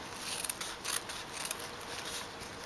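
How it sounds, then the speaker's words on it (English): Scissors snip through paper folded in half and then in half again, a rapid run of crisp rasping cuts at close range, steady and fairly quiet with no voices. "If you fold it in half and then in half again like we did, you're cutting a lot faster."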